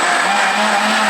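An electric blender whirs in a steady, loud, high-pitched drone while it blends orange juice, with no breaks for about a second.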